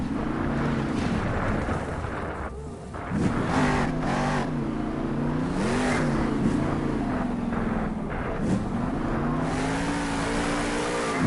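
The Grave Digger monster truck's engine roars and revs hard during a big wheelie at an arena event, a loud, continuous throaty drone rising and falling in pitch, with a crowd-filled echo behind it.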